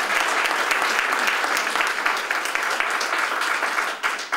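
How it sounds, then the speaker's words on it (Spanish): An audience at a 100th birthday celebration in La Milagrosa bursts into steady, dense applause, sustained clapping that holds throughout and tapers slightly at the very end. "Un aplauso para ellos."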